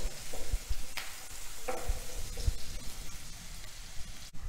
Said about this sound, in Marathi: कांदा परतून घ्यायचा आहे